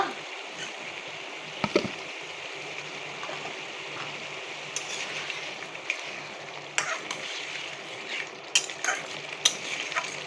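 Prawns with green chillies fry in a pan for a spicy prawn dopeyaza, a steady hiss of sizzling oil with occasional clinks and stirring scrapes, close and continuous with no voices.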